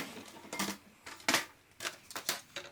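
A series of short, crisp paper-cutting sounds from a trimmer or scissors, roughly six separate snips spaced unevenly, close and fairly quiet with no talking.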